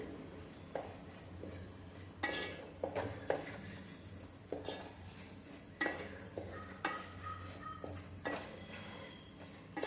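Ingredients being sautéed in a pan for a Kaanagathai fish curry, with soft continuous frying hiss broken by irregular scrapes and knocks of a spatula stirring, fairly quiet and close with no talk.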